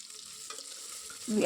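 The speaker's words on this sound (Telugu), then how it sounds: "ఆనియన్స్ మెత్తబడేంత వరకు సాటే చేసుకుందాం" Two chopped onions sauté with whole spices in a pressure cooker, giving a faint, brief sizzle that ends in a sudden louder scrape of stirring.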